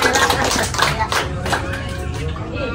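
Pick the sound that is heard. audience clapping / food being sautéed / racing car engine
audience clapping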